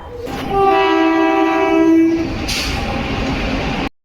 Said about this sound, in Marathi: मित्रांनो फायनली ट्रेन आलेली आहे लोकलची